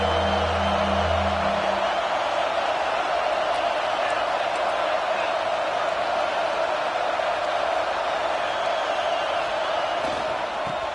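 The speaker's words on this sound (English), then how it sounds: "This big crowd doing everything possible to inspire this defense down here near the goal line" A big football stadium crowd roars steadily near the goal line in a Bama vs LSU game, a dense, sustained wall of cheering that holds loud and constant throughout with no break.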